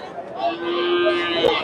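A Sahiwal bull at a cattle market in Bogura gives one long, low, steady moo lasting over a second, close by and clear above soft crowd murmur.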